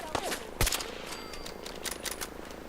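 Gunfire in Fallout 4, a few sharp shots and short bursts crackling at mid distance, one louder crack standing out, mixed with a speaking voice.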